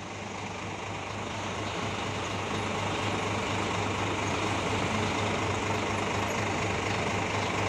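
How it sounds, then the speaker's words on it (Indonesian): Steady engine drone of a Padang-based Bagindo Transwisata intercity bus, a constant low hum under broad road-like noise, sustained and close with no speech. "Iya nih, bus dari Padang nih."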